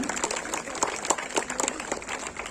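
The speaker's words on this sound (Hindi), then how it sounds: "बहुत बहुत धन्यवाद विवेकी सर, जोरदार तालियां।" Audience at a school Republic Day celebration claps enthusiastically, a fairly loud, uneven patter of many hands with sharper individual claps standing out throughout.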